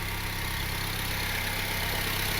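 A Honda Civic with an R18 engine and eBay turbo kit idles steadily nearby, a smooth, even hum with a low throb and a faint high whine over it.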